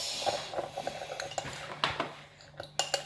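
Dishes, pots and cutlery clink and scrape in a sink as they are washed, with irregular close knocks and rattles over a steady low hum.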